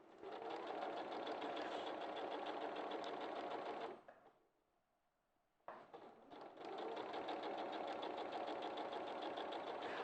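Domestic sewing machine stitching a quilt, running in a steady fast whirring drone with rapid needle chatter, stopping briefly for under two seconds before starting up again at full speed, loud and close.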